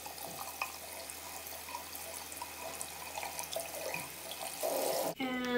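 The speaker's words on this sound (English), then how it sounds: "So I'm going to start with just wetting the hair in warm water." Warm tap water runs steadily into a sink as a doll's hair is wetted beneath the stream. There is a continuous close splashing flow, then a brief shift in sound near the end.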